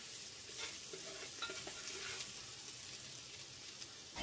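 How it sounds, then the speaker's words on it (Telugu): Onions frying in oil in a pot for Hyderabadi-style chicken biryani, stirred continuously, giving a constant soft sizzle with scraping stir sounds, fairly faint and alone. "ఆయిల్ వేసుకున్నాక కూడా వీటిని బాగా కలపండి, ఉల్లిపాయలు అన్నీ బాగా ఫ్రై అయినట్టు కలపండి"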